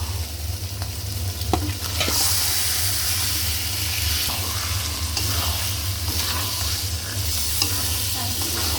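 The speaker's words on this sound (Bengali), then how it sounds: "এখন আমার ম্যারিনেট করা মাংসগুলি দিয়ে দিব।" Marinated meat tipped into hot cooked-down spice masala and stirred, a loud continuous sizzle and hiss filling the whole stretch with occasional scraping strokes, no voices.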